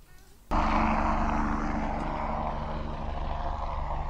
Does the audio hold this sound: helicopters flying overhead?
yes